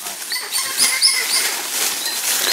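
Monkeys call in a Bolivian forest, high thin squeaks and chirps scattered over a rustling, hissy background, moderately close and continuing for a couple of seconds.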